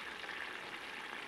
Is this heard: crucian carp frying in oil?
yes